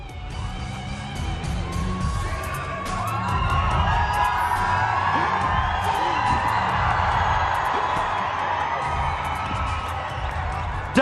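Crowd at a live fight event roaring and cheering wildly, a dense, sustained wall of shouts and whoops that swells louder midway and stays loud throughout.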